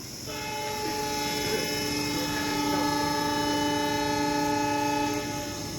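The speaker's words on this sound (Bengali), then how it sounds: "আমাদের এই ট্রেন এখন আমাদের বক্তব্যর 2য় নম্বর স্টেশন জাগি রোড এসে জাস্ট অ্যারাইভ করলো।" A passenger train arrives at Jagi Road station on the Guwahati to Ledo line, sounding a loud sustained horn over the steady rumble of the carriages, heard close and continuous.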